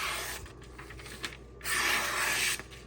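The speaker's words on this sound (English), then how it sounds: "Now let's see how it slices." Freshly sharpened Ytuomzi chef knife slicing through food, a dry rasping cut with short strokes, then a longer, louder continuous slice near the end, heard close and alone.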